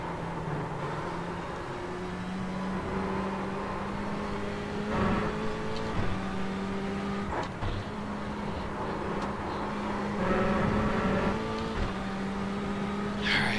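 Ferrari race car engine lapping Le Mans in the sim racing game iRacing, a steady droning note that climbs and drops through gear changes, with brief revving bursts and no talk.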